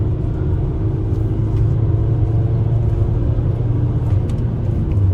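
Opel Combo Cargo 1.5 with 130 HP pulled hard at full throttle through a bend, a loud, steady low engine drone and road rumble heard from inside the cabin with no talking.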